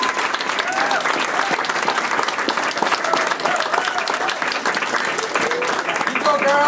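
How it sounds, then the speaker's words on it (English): An audience breaks into a sustained round of applause for Lisa at a head-shaving solidarity event, steady dense clapping with some cheering voices mixed in throughout. "we owe a special round of applause to Lisa for her willingness"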